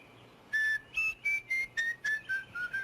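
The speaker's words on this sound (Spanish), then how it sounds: "A ver, silba." A person whistles a series of about nine short, clear notes in a steady rhythm, each a brief bright tone, close and alone.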